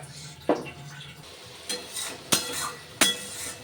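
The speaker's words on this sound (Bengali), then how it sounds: "নাড়াচাড়া করে মশলাটা খুব ভালো করে কষিয়ে নেব" Cumin and mustard paste stirred in a pan for a fish curry with green mango, heard as a few sharp utensil scrapes and clinks against the pan, spaced irregularly, with no talking.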